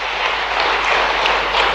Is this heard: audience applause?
yes